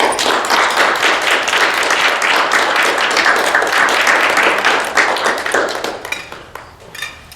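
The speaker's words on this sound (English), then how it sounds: "give our candidates a round of applause" Audience applause for Radcliff city council candidates at a candidate forum, a dense, loud, steady wash of clapping that holds for about six seconds before thinning out and fading away.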